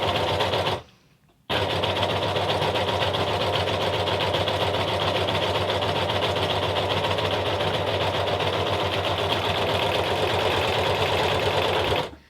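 An overlocker runs steadily, stitching stretch jersey fabric with the differential feed set at 2, a close, continuous motor whir with rapid needle clatter after a brief pause near the start.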